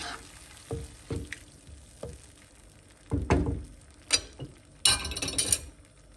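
Tomato paste and chopped tomatoes frying in a pan, a soft sizzle punctuated by clinks and knocks of a utensil against the pan, close and fairly quiet with no talk.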